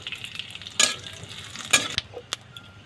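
Dry red chilli, bay leaf and cumin fry in hot oil, with a close sizzle and several sharp spatters and stirring scrapes standing out over the steady hiss.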